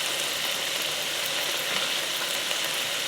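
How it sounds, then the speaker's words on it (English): Meat and garlic sauté in a pan inside a camper van in Alaska, giving a steady, loud, close sizzle with faint scraping stirs throughout and no talking. "We're just going to saute this until all the meat is brown."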